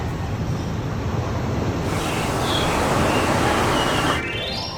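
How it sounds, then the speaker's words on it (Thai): Sea waves wash onto the shore by a hotel in Phuket, making a steady, close, full-bodied roar that swells slightly midway, with no talking. "ได้ยินเสียงทะเลมาบอกให้เราในตอนเช้าว่าสู้ ๆ"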